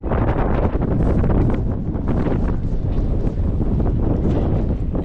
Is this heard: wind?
yes